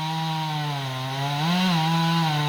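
A chainsaw cuts white oak while logging, its engine droning loud and close, with the pitch dipping slightly under load and then climbing again.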